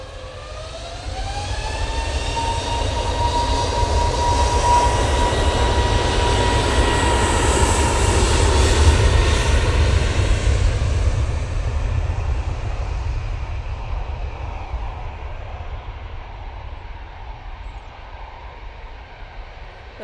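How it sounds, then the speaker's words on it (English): A Jet2 Airbus A321neo takes off for Corfu, its engines building to a loud, steady roar with a rising whine, then fading slowly into the distance. "Jet2 off to Corfu now using that beautiful A321neo"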